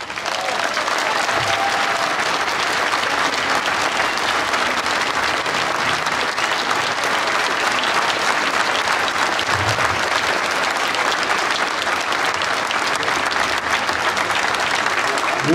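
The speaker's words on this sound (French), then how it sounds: "faites un applaudissement magnifique pour les policiers qui veillent" Sustained, loud applause from a large crowd for police officers during a priest's open-air sermon at the Brescoudos gathering, a dense, even roar of clapping that holds steady for over fifteen seconds.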